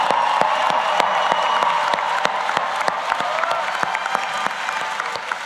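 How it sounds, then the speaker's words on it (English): A large audience applauds MSW graduates at a Rutgers School of Social Work convocation ceremony, loud sustained clapping from many hands with distinct nearby claps, filling the hall without a break. "round of applause for all those MSW graduates"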